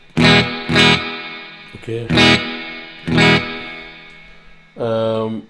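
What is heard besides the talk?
electric guitar with amp reverb effect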